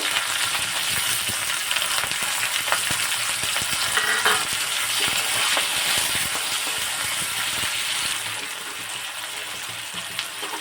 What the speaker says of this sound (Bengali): দুটো পেঁয়াজ কুচি করে রেখেছিলাম, সেগুলো কড়াইতে দিয়ে দেব।